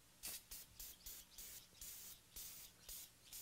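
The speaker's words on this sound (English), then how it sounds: "You just spray a small amount and use some Scotch-Brite pads to go around and thoroughly clean the surface." Brake cleaner sprays onto a dirt bike hub in about a dozen short, sharp hissing bursts in quick, regular succession, close and fairly quiet.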